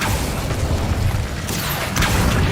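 An Incendio fire spell is cast in a Harry Potter video game: a loud, dense rumbling whoosh with a deep boom underneath, swelling again after a brief dip.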